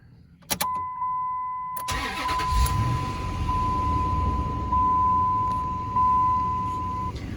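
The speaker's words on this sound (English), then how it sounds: "We'll go ahead and fire it up so you can hear it." A 2004 Dodge Ram 1500 SLT 4x4 with a Hemi V8 cranks briefly and catches, then settles into a steady, close idle with a faint high whine running over the rumble.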